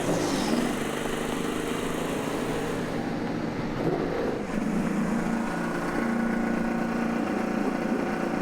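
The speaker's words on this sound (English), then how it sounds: "Good to hear the engines fired." IndyCar race car engines fire and idle at the Honda Indy Grand Prix of Alabama, a dense, loud, sustained rumble of many motors blending together without pause.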